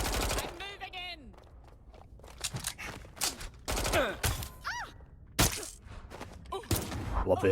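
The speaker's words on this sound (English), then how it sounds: "Love the gun executions in this game" Watch Dogs Legion gameplay brings sharp bursts of gunfire and close-range gun executions, with loud irregular shots and thuds spread across several seconds, mixed with in-game shouts and vocal cries between the blasts.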